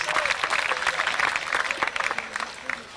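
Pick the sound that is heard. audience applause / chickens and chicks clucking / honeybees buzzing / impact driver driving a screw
audience applause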